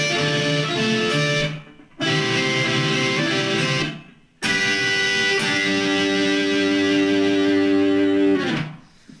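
Distorted electric guitar plays a solo, loud and close, in three sustained phrases split by brief silences near two and four seconds. No voice.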